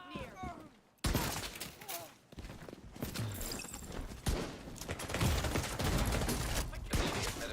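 A frag grenade goes off amid rapid gunfire in The Division 2, with sharp bursts and a heavy, chaotic rumble close by. Game voices talk in short bursts over the battle.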